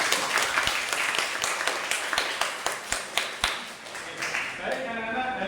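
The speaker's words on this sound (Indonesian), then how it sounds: "Anak-anak, silakan anak-anak bisa tepuk tangan semuanya." Schoolchildren clapping in a classroom: a quick run of sharp, rhythmic group claps, fairly close, that stops abruptly, after which a faint voice is heard.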